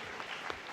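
Audience applause at a debate, a short burst of soft, fairly distant clapping with no talk over it.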